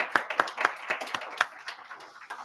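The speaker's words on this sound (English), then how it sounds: "So a round of applause, please" Light, scattered clapping from a small audience at the end of a presentation at a civic tech hacknight. The individual claps are distinct and fairly quiet, with no talk over them.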